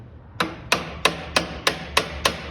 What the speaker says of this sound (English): just peck on the end of it with a hammer to see if I can get it to move